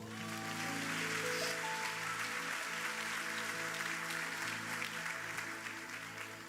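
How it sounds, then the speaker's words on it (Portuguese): A church congregation applauds the Lord in sustained, steady clapping that swells and holds for several seconds, with sustained organ or keyboard tones underneath. "Você pode aplaudir o Senhor?"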